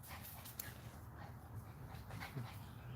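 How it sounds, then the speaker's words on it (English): Dogs scuffle somewhere off in the background, giving faint yelps, whimpers and growls in uneven bursts beneath a low hum of room noise. "Sorry, dogs are fighting."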